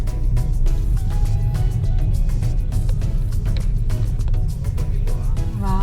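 A wind turbine gives off a steady, loud, roaring whoosh, like a nearby airplane. The low rumble stays continuous throughout, and faint voice-like tones drift through it.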